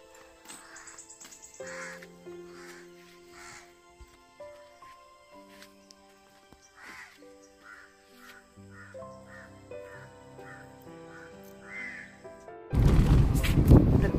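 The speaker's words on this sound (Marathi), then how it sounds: "कावळे उठले होत." Crows caw in short repeated calls near a parked car in the Amboli ghat, loud and close over a quiet background, until a burst of wind or handling noise at the end.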